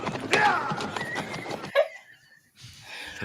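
A horse pulling a carriage whinnies loudly while hooves clip-clop in a steady rhythm, followed by a brief drop to quiet and then faint street bustle.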